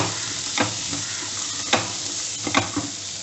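Sundal being stirred with spice powder in a pan, several short scraping strokes of a spoon over a quiet sizzle, close and fairly soft.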